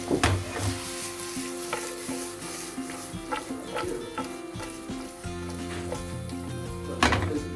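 Shrimp sautéing in a pan for spring rolls, a steady sizzle with repeated scraping strokes of stirring and a few sharp utensil knocks against the pan, close and fairly loud.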